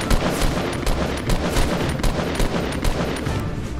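Rapid gunfire in the Fortnite video game, a dense string of close, loud shots in quick rhythm with no voices.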